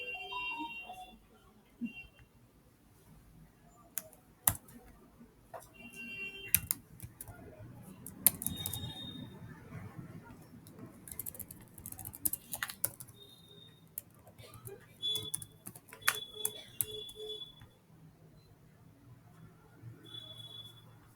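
Computer keyboard typing while writing plotting code, scattered keystrokes and short bursts of taps close to the mic, fairly quiet, with occasional brighter clicks.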